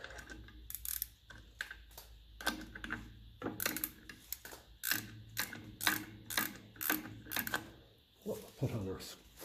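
Ratcheting clicks and metallic taps from tightening a brake adjuster on a 1954 Ferguson TEF 20 diesel tractor, a close run of sharp irregular clacks with short pauses between them.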